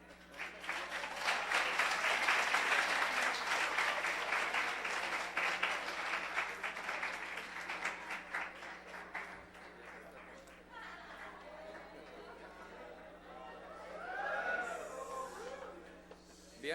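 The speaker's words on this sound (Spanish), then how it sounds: "para el maestro José Reséndiz Valderas, por lo cual pido un fuerte aplauso" Sustained applause from a conference audience, loud and dense for several seconds before thinning out, with people chattering and a voice speaking as it fades.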